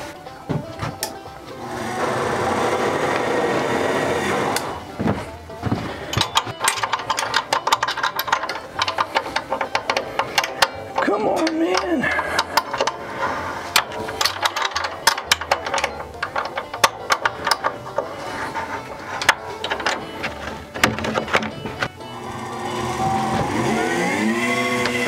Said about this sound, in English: Then we're going to turn the conveyor on and run a little test.